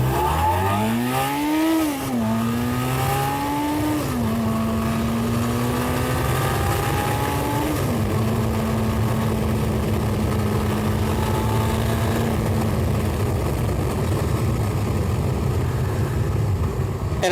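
A cheap secondhand four-cylinder motorcycle engine revs up hard through gears, rising pitch with shifts, then holds a loud steady drone close by.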